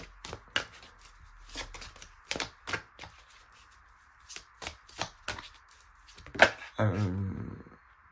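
Tarot cards are shuffled and handled up close, with a run of crisp riffling flicks and taps in irregular bursts, then a thicker rustling sweep near the end, with no talk.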